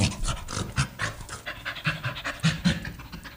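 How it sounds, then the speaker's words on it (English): A dog pants rapidly and steadily in a close recording, the breathy in-and-out rhythm continuing throughout with no voices over it. "That was a dog sound."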